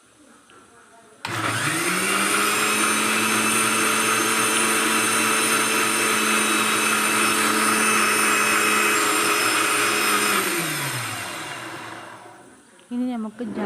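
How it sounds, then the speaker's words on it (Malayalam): A kitchen mixer grinder whirs at full speed for about ten seconds as homemade mayonnaise is blended in its closed jar, a loud, steady high-pitched motor drone that starts sharply and winds down, followed by brief clatter. "ഇനി ജാറ് മൂടിയിട്ട് ഒരു 30 സെക്കൻഡ് മിക്സിയിൽ അടിച്ചെടുക്കാം."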